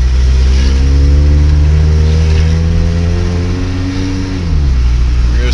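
A Toyota truck engine drones loudly from inside the cab, holding a steady pitch before dropping as the automatic transmission shifts up, a continuous close engine hum.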